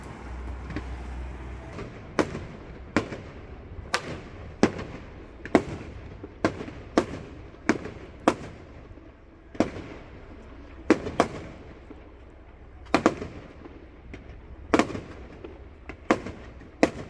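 A fireworks display sets off roughly twenty sharp bangs at uneven intervals over a low, steady background rumble. Several blasts come in quick pairs, and no one speaks.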